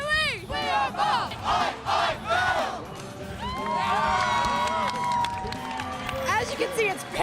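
Group of contest participants shouting a team cheer in call-and-response bursts, loud excited voices with shrieks and whoops, then a sustained jumbled crowd roar of cheering close by.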